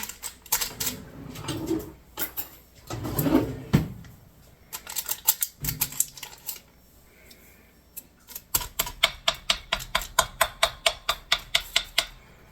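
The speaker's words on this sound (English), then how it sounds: "Poking holes in it is called docking your pie crust." A fork jabs holes into a pie crust for a strawberry rhubarb pie, its quick clicks clustering into a fast, even run of sharp taps toward the end after some scattered earlier knocks.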